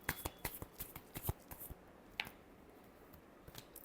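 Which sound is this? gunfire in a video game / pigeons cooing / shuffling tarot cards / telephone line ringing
shuffling tarot cards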